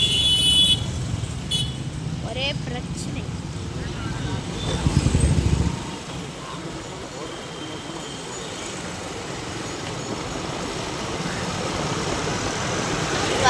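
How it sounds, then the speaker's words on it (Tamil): Heavy street traffic in Purasawalkam, Chennai: steady engine rumble and idling vehicles with a brief horn toot, louder up close for the first few seconds and then a continuous road-noise wash; a person speaks briefly. "ஃபுல்லாக டிராஃபிக்காகவே இருக்கே கைஸ்"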